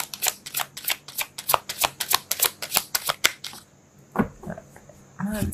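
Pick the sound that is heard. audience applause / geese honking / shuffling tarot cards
shuffling tarot cards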